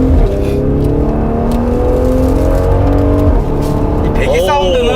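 A Mercedes-Benz GLC43 AMG engine and exhaust drone steadily from inside the cabin while driving, with rising engine pitch at the end, under continuous conversation.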